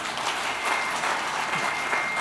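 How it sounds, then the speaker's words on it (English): A church congregation claps together during a prophetic sermon, dense continuous applause from many hands filling the room at a steady, fairly loud level. "Clap for Jesus Christ."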